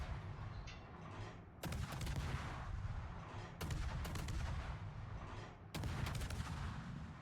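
Heavy naval guns fire in a video game: three loud, booming salvos, each one followed by a long rumbling decay, with no talking over them.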